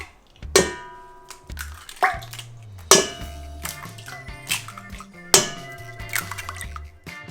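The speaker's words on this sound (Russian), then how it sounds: "Разбиваем в чашу 10 куриных яиц." Ten chicken eggs cracked one after another into a bowl give a handful of sharp, crisp knocks spaced about a second apart, each followed by soft liquid slipping and dripping, close and alone.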